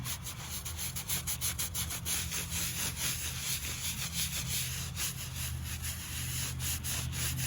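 A brush scrubs dirt off a flat stone grave marker, the Revolutionary War veteran John Stout's federal flatstone, making close, rapid, rhythmic rasping strokes that continue steadily throughout.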